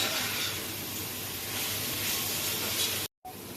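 Onions and ginger sautéing in a pan for chicken biryani, a steady loud hiss and sizzle that cuts out briefly near the end.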